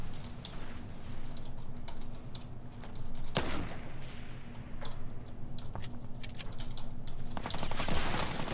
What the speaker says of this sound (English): is that a minigun?